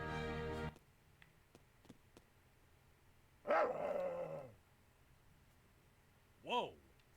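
A dog in the video game Hollow Knight barks twice, first a short bark near the start, then a longer growling burst in the middle, with a brief yip at the end. Game sounds play between the barks.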